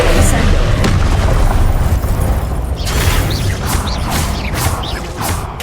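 Spell effects in the Hogwarts Legacy video game, with a dense run of loud blasts, whooshes and crackling bursts that keep going with no pause, several sharp hits standing out over a constant rumbling wash.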